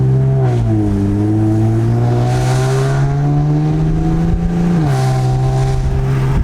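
An Infiniti Q50 3.0T with an MBRP exhaust and Megan Racing lower downpipe revs close and loud, its deep droning note climbing steadily, then dropping sharply before holding again.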